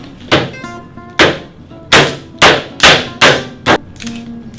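Hammering in a camera durability test: about seven sharp, loud individual blows struck at an uneven pace, each ringing briefly, with no talk.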